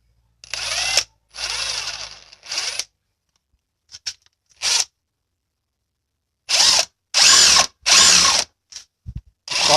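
An AEG cordless power tool drills in several loud bursts, each about one to two seconds long, with short pauses and faint clicks between them. The tool is close, and no one talks.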